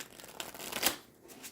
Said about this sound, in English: I think I'll be able to shuffle them okay like this